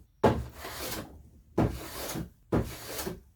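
Three separate strokes of a bench plane across wood, each a sharp scraping hiss as thin shavings peel off, spaced about a second apart with quiet gaps, close and with no speech.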